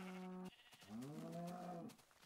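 A sheep in a Minecraft-style video game bleats twice, a short call then a longer wavering one, close and clear with no other sound.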